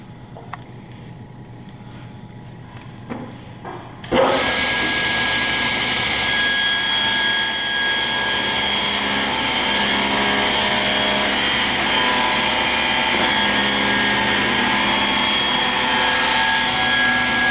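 A table saw motor starts after a few quiet handling clicks, then runs with a loud, steady whine and high blade hum while it cuts a narrow groove in wood, continuing to the end.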